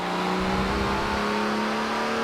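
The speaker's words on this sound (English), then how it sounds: "You can hear the engine really wants to change gear." A Mini John Cooper Works car engine in Forza Horizon 4 holds at high revs, droning loudly and steadily with a strained tone.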